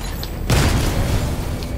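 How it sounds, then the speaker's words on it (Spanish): A sudden booming explosion in the video game Batman: Arkham Knight bursts in after a brief quiet lead-in, then rumbles on loudly with crackling debris for about a second. "La explosión ha acabado con el candombre."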